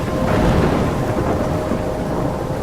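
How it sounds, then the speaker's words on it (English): A thunderstorm in the video game Life is Strange, with dense, steady rain and rolling thunder rumbling loud and continuous throughout, no voices. "A storm?"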